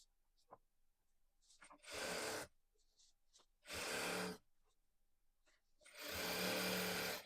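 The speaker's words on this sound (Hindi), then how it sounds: "और ये रख के हम सिलाई लगा लेंगे।" A sewing machine stitches khadi salwar fabric in three short bursts of close, buzzing whirr separated by quiet pauses with faint handling sounds, the last run the longest.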